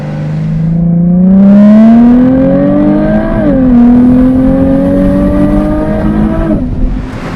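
A Jaguar F-Type convertible accelerates hard, its engine note climbing loudly through the revs, dropping briefly at a gear change, then rising again before easing off near the end.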